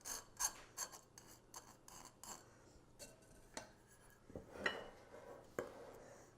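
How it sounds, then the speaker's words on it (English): Dry gingerbread ingredients with baking soda being stirred together in a bowl, giving faint, close scraping and rasping strokes in an irregular rhythm. "So what we're doing now is just mixing these together so that we have no lumps."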